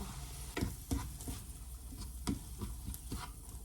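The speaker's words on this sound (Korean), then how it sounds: "밥을 넣고 볶으면서 이 굴소스를 넣어요" Rice being stir-fried in a pan with a spoonful of mayonnaise, steady sizzling texture broken by several sharp spatula scrapes and knocks against the pan, close and moderately loud with no talking.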